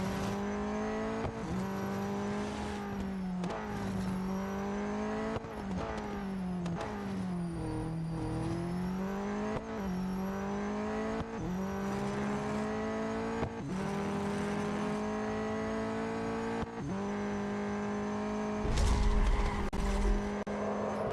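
A race car laps a track in the mobile racing game Real Racing 3, its engine droning and rising through gear shifts with tire squeal, steady and continuous, ending in a louder rumbling burst, with no talking.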